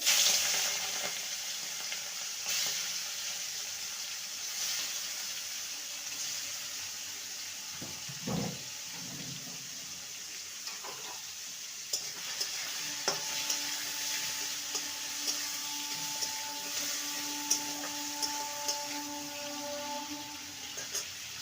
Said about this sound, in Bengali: তেলটা ভালো মতন গরম হয়ে গেছে এবার মাছগুলো ছেড়ে দেবো